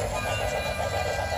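A small electric toy train runs along its track with a steady mechanical whir and a softly pulsing rhythm, close and continuous.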